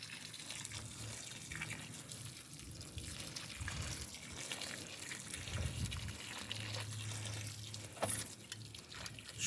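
Water is poured over a newly planted fig sapling in a soil hollow, trickling and dripping steadily nearby at a moderate level with small splashes.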